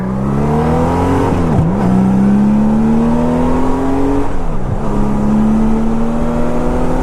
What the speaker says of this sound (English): Let me show you how the Goldwing accelerates like a beast.